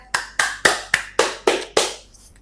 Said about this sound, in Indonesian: beri tepuk tangan kepada Daniel